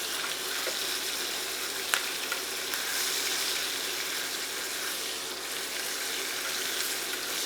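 A pork chop sizzles in a hot pan with butter, garlic and thyme, giving a steady, close frying hiss with a couple of faint clicks as the meat is turned.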